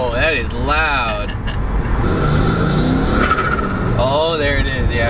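Subaru WRX turbo with a newly installed Boomba bypass valve, revving and fluttering while driving with the windows up, loud and steady engine roar. Excited voices speak over it at the start and end.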